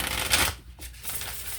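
Tarot cards being drawn and laid out, a close, steady papery swish and slide that dips briefly midway before continuing, with no voices.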